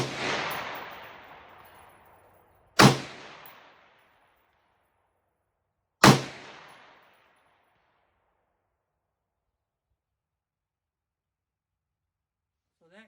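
An AR-15 gas gun fires Winchester M193 55-grain rounds at a 440-yard range. Three loud, sharp shots come a few seconds apart, each followed by a long fading echo, with no talking.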